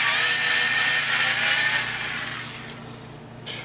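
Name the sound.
Skil 4V cordless electric screwdriver driving into wood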